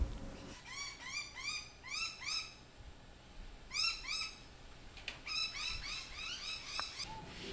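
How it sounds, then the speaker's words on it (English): Pheasant coucal, or swamp pheasant, in breeding colours calling in a backyard garden with big trees, a series of repeated hollow descending hoots in bursts, fairly faint and somewhat distant, with no talk. "That's our pheasant kukul or swamp pheasant, and they're in their breeding colours"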